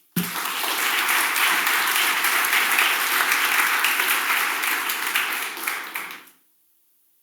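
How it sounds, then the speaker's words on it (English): Loud, dense applause from a forum audience, holding steady for several seconds and then dying away abruptly into silence. "Give him another round of applause, please"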